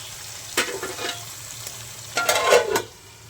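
Green peas hit hot oil in a kadhai and fry with sharp sizzling bursts, one near the start and a louder cluster later, separated by quieter crackling and a low hum.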